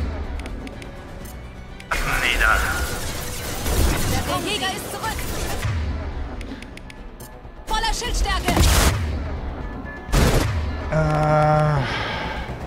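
Gunfire and impacts in the video game Mass Effect 2, loud bursts of shots and crashing blasts in several clusters with brief gaps, mixed with game effects.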